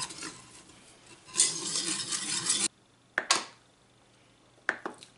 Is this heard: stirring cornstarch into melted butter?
yes